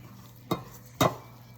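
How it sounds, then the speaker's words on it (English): Bread dough is mixed by hand in a bowl, giving two distinct wet, squelching slaps about half a second apart against a quiet background. "you can use a wooden spoon or your hands to mix this"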